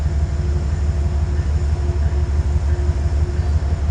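A Heritage P32 locomotive hauls train 833 from Grand Central to Poughkeepsie on the Hudson line, a steady, loud low engine rumble with a constant hum that holds level throughout, no voices.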